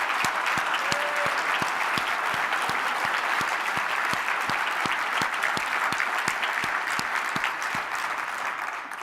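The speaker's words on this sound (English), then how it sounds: "Please give her a big round of applause." Sustained applause from a large crowd at a summit keynote, dense steady clapping continuing throughout without a break.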